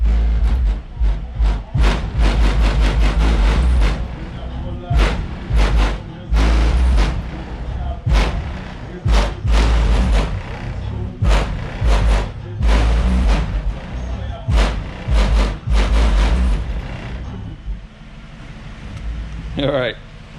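Heavy car audio bass from two Skar Audio EVL 12-inch subwoofers on a 2000-watt amplifier thumps through a vehicle in loud, rhythmic booming pulses for about twenty seconds, with a voice talking over it.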